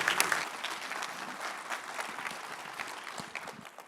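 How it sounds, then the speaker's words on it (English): A competition audience claps steadily for a presenter, a dense, moderately distant patter of many hands that holds evenly for a few seconds with no talking over it. "An applause for Robert Etip."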